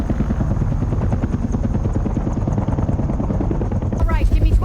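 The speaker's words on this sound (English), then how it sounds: "pulling up in an army helicopter like that" An army helicopter in the film Arrival, with loud rapid rotor chopping that beats steadily and close, then an abrupt shift in the rumble near the end.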